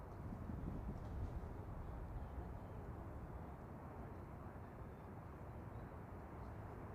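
A Jet2 Boeing 737-800 bound for Paphos, Cyprus, at Manchester Airport gives a steady, broad jet-engine roar, fairly loud and continuous, with some wind noise on the microphone.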